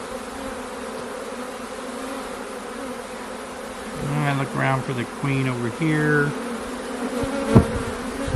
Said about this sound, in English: A clump of bees here that could have a queen in it